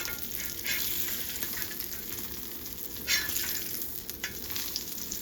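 Marinated fish frying in coconut oil in a pan, a steady dense sizzle and crackle throughout with a few louder spatters, close and without talking.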